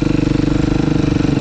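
A motorcycle engine runs loud and close during wheelie practice, giving a steady pulsing drone with a fast, regular beat and no talk over it.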